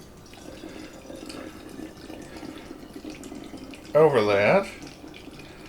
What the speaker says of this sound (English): And you just pour the vodka